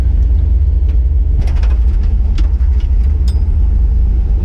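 Loud, steady engine rumble from an off-road vehicle crawling through snow in low range, with intermittent knocks and thumps over the drone; no talking.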